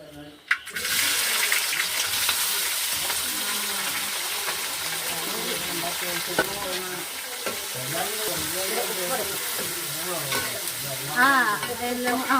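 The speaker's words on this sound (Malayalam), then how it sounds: "നമ്മൾ അരിഞ്ഞു വെച്ച സവോളയും തക്കാളിയും പച്ചമുളകും ഇഞ്ചി വെളുത്തുള്ളി എല്ലാം കൂടെ അങ്ങോട്ട് ഇടാൻ പോവാണ്." Onion, tomato, green chilli, ginger and garlic hit a pan for chicken curry, a sharp clatter at the start giving way to steady close sizzling and scraping stirs, with a faint voice now and then.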